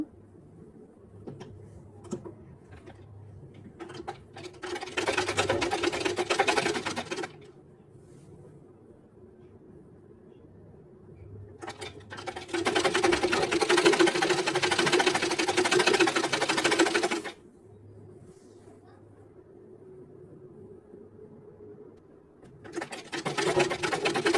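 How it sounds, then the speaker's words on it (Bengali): An electric sewing machine stitches the shoulder seam of a blouse, running in three bursts of rapid, steady mechanical whirring separated by quieter pauses with faint handling sounds, close by and without talk. "এটা হচ্ছে ব্লাউজের কাঁধের যে সাইডটা আছে সেটা একদম মাঝখান থেকে সেলাই করা শুরু করব"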